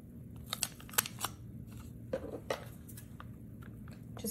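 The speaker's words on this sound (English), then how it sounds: "Just cut it in half." Scissors cut double-sided tape in half close up, a handful of quiet snips and crisp clicks spread over a few seconds with no talking.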